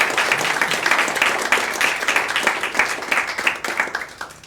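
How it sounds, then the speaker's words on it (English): A veterans' gathering audience applauds its president with brisk, dense clapping from a sizable crowd, loud and continuous throughout, with individual sharp claps standing out in the mix. "Joe Triani, give him a round of applause."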